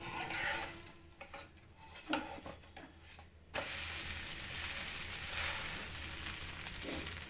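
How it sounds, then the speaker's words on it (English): A barley dosa sizzles on a hot pan right after being flipped, starting with quieter scraping and stirring clatter, then a loud, steady hiss that continues to the end. "Now it is done on one side, so let us flip it onto the other side."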